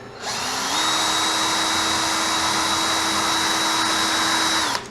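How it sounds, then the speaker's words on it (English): A power drill drilling into a block spins up and runs at a steady high-pitched whine for several seconds, close and loud, then stops abruptly. "I'm going to put one tray at a time on here and drill them here."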